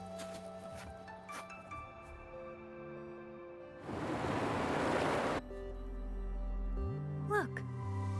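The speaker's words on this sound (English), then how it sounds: "Look, the water is going down." Water rushing and draining away in a video game, a loud broad surge lasting about a second and a half amid ambient tones, followed by a low rumble.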